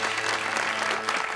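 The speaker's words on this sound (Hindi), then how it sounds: "तालियां।" Studio audience applause on a Pakistani TV talk show set: a short, steady burst of dense clapping filling the whole moment.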